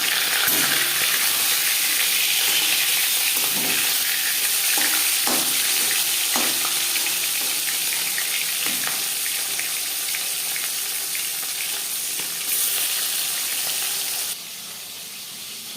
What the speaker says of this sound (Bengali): পরিমাণ মতো রিফাইন্ড অয়েল গরম করে নিয়েছি দিয়ে দেবো ম্যারিনেট করে রাখা মাছ